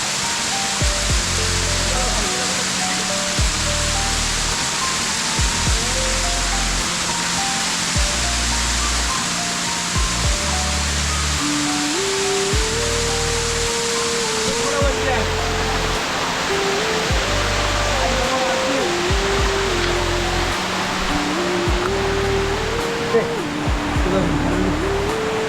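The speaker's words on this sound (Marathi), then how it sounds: "इथूनच त्याच्या अपोजिटला हा वॉटरफॉल आहे जो आता आम्ही शोधत आलो आहे." A hidden waterfall near Bhal village roars in a steady, unbroken wash throughout, with a stepping musical melody playing over it.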